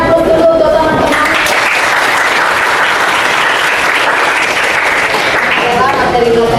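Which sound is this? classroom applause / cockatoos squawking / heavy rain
classroom applause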